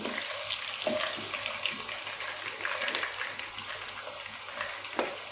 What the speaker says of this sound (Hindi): ये भी इसमें डाल देंगे और हल्का सा फ्राई कर लेंगे